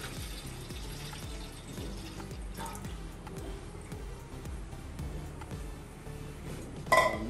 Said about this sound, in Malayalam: സെക്കൻഡ് തേങ്ങാപ്പാൽ നമ്മൾ ഒഴിക്കുക.